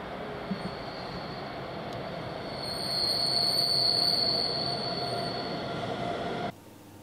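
A high, shrill squeal from hot car brakes rings out over a rumbling rolling noise, swelling louder midway before cutting off abruptly near the end.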